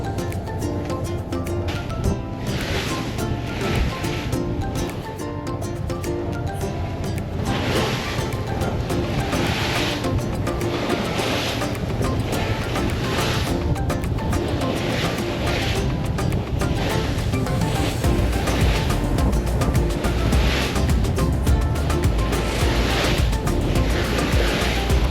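A boat runs at sea off the Swedish coast over very small waves, with a constant loud engine drone and a rushing hull-and-water wash that swells and eases in soft surges.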